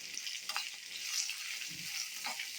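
Sliced bitter gourd (kakarakaya) frying in a pan gives a steady, close hiss of oil, with occasional stirring scrapes and small pops, and no talking.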